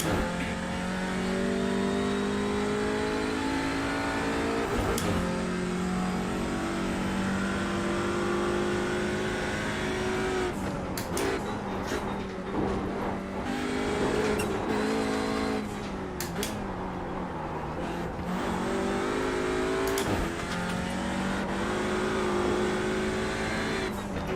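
Race car engine in a sim racing game, revving hard and shifting through gears with rising and falling pitch, loud and continuous, with brief tire squeal.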